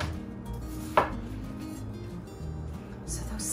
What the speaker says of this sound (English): I'm just going to cut them into little smaller pieces and arrange those on the platter.